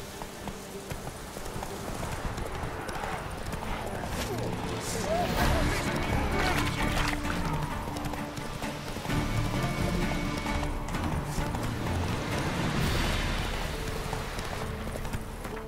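A horse gallops in The Witcher 3 with a fast, continuous run of hoofbeats, loud and close, and occasional voices mixed in.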